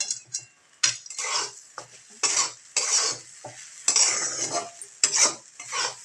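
Sabudana khichdi being stirred together with fried potato pieces in a pan: repeated scraping strokes of a spoon against the metal pan, close and fairly loud, coming in irregular bursts with a faint sizzle between them.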